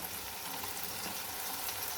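Tomato sizzling in a pan with salt and turmeric, a steady soft hiss of frying throughout, close and continuous with no talking.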